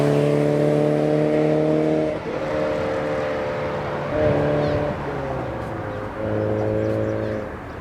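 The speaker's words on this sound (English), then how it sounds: "this Danks Sport exhaust. It sounds pretty good." A Porsche 944 with a Danks Sport aftermarket exhaust revs close up, a loud, steady droning engine note rising and dipping in several held pulls separated by short drops.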